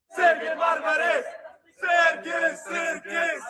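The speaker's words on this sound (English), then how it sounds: "A crowd of St. Louis Bosnians turn out at Lambert Airport to cheer on their national team as they get off the plane." A crowd of Bosnian supporters cheers and chants at Lambert Airport in St. Louis as their national football team arrives, two loud bursts of massed voices separated by a brief lull.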